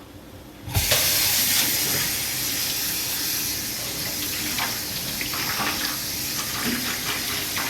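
Cooked spaghetti is strained and rinsed under running water, a loud, steady hiss and splash that starts abruptly and continues close and unbroken, with no voices.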